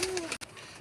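A Sialkoti Ali wala pigeon gives a single short, close coo with a gliding tone, over in under a second with no voices.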